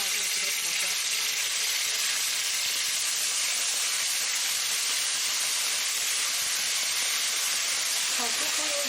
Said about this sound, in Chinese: 锅热里倒油，油热了以后放上2条的片鸡蛋，给它炒香